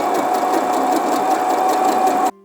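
A sewing machine runs continuously at speed stitching a tight zigzag, a loud, even mechanical whir and clatter that stops abruptly at the end.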